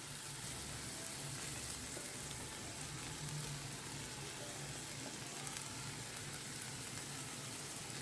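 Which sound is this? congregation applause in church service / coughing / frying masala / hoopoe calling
frying masala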